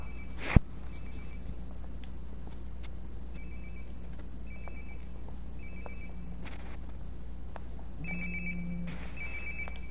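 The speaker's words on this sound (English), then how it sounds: "Sounds like my phone is definitely nearby." A mobile phone rings in the video game Life is Strange: Before the Storm, its electronic ringtone repeating in several short bursts at moderate volume over a low ambient hum, with no talking.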